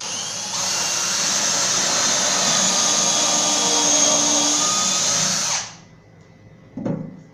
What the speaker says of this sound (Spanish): Ingresamos la broca con cuidado y procedemos a perforar.